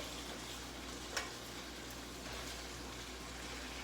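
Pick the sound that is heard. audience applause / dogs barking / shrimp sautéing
shrimp sautéing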